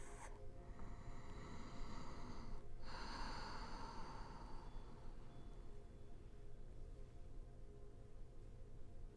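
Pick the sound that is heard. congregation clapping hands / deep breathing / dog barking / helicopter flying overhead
deep breathing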